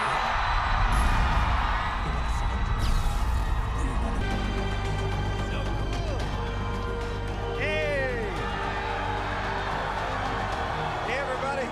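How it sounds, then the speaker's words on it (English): A live fan-convention audience applauds and cheers for actors Diego Luna and Alan Tudyk, a loud, steady roar of clapping and crowd noise lasting throughout, with voices mixed into the din. "Give a rebellious applause for Diego Luna and Alan"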